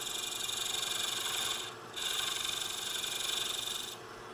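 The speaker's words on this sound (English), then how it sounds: "Take a skew. Score that inside line." A skew chisel scores a line into a wooden Christmas candlestick spinning on a lathe, giving a steady, close scraping rasp that drops out briefly once and then continues.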